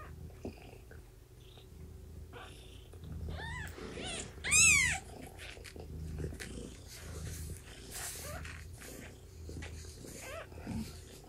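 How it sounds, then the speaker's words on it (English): A kitten beside its mother cat: soft purring runs under quiet, close room sound, with a short burst of high mewing chirps near the middle. "All the fluff that the kitten gets from Mama's belly."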